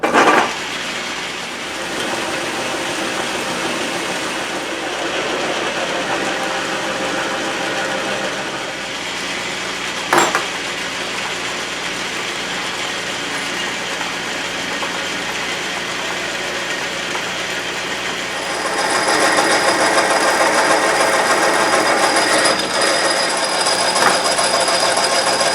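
A metal lathe trues and drills the end of a steel shaft, making a loud, continuous mechanical whir with a brief clank partway through, then growing a little louder and brighter toward the end.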